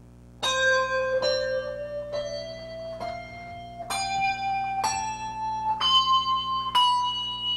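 A set of hand bells rung one after another in a rising scale, eight clear metallic strikes at a steady pace, each ringing on and overlapping the next, loud and close without talk.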